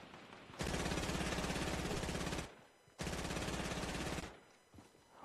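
Two long bursts of automatic gunfire in Fortnite, loud and rapid with a short gap between them, each trailing off into quieter game sounds.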